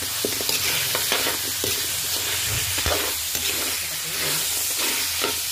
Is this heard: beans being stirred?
yes